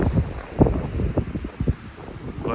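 Gusty wind buffets the microphone on a beach near the water, with low rumbling bursts and the wash of waves behind it.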